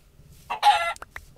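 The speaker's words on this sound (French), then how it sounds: "Les gars, y'a plein de poulets là" Blocky chicken clucks from the video game Minecraft: a short burst of several bright, close clucks followed by two quick clipped peeps, with no talk over them.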